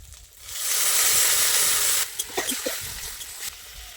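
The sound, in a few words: water poured into hot pan of fried koi fish masala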